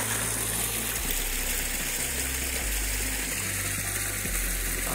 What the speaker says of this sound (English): I'm guessing this is the waterfall